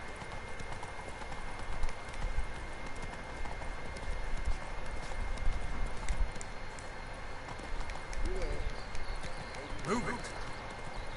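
Roach, a horse in The Witcher 3 video game, gallops with steady, rapid clip-clop hoofbeats under constant ambient noise, with a brief voice near the end.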